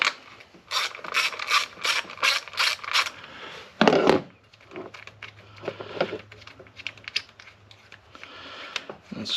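A ratchet backs out the 10 mm ignition coil bolts on a Jeep Cherokee 3.2, with a quick run of about eight crisp ratcheting bursts, a louder clank, then softer intermittent clicks and rubbing close up.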